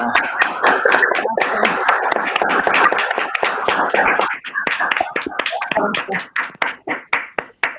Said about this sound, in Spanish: les pediría que hagamos al menos un aplauso virtual encendiendo los micrófonos